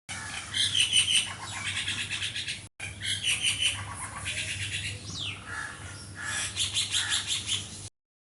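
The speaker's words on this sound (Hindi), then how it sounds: "चलो सुनते हैं मैना कैसे बोलती है।" A myna bird calls in bursts of shrill, whistling chirps and squawks, repeated over several seconds with a brief pause midway, fairly close.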